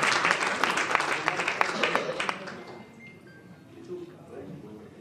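Audience clapping at an art exhibition unveiling in Pune, a dense burst of applause for about two seconds that thins out and fades, leaving scattered murmurs and light room noise.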